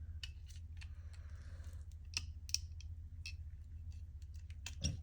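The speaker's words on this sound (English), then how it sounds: "Trim that little excess floating on the side." Scissors snipping excess tape off a small patch template for welding, a string of sharp, close clicks and snips spaced irregularly over a low steady hum, with no talking.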